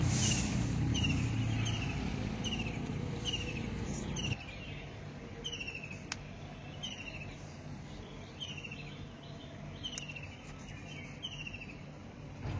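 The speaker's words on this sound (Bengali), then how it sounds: "পাখিদের মিষ্টি ডাকগুলো শোনো" Birds chirp in short repeated calls at dawn on a rooftop terrace garden, faint and somewhat distant, with a soft insect-like background hum and no talking.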